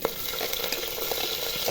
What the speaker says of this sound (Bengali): এবার পেঁয়াজ কুচি দিয়ে দেবো,